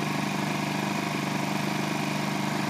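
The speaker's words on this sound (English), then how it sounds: "This is a very, very quiet running generator." A Ryobi 2200 digital inverter generator running at a steady idle, a smooth continuous low engine hum with a fine even pulse, close and alone without talk.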